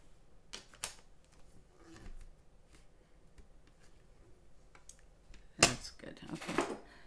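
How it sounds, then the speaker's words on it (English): A paper-punch or die-cutting stamp pressed onto paper for a handmade birthday craft box, heard as a few faint taps and then a sharp, louder crunching clack near the end, over quiet room tone. "And we stamp it one more time."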